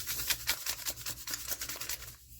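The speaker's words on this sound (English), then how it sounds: "So we're gonna grind it up a little more so everything gets grind." Sugar is ground into powdered sugar with rhythmic gritty rubbing strokes, about two per second, close and fairly loud, no talk.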